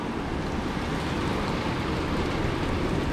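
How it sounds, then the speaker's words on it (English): Steady, even hiss of rain falling outside without pause, in Japan between Aomori and Akita, a dense wash of noise with no other sounds standing out. "you can hear the rain outside."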